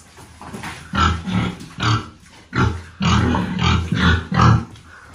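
Large pigs in a pen grunting and oinking close by, a series of short rough grunts in irregular bursts with brief pauses between, and no talking.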